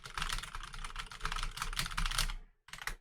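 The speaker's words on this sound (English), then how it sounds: "it's a new keyboard" Rapid, continuous typing on a new computer keyboard, dense close-up key clatter that runs nearly unbroken, pauses briefly, then resumes for a short burst.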